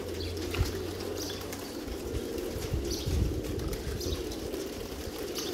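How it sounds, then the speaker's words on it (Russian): Double-crested pigeons flap and take off among other pigeons, wingbeats and soft coos mixing with steady low outdoor rumble throughout, no voices. "Голуби кайфуют, вон срываются туда-сюда."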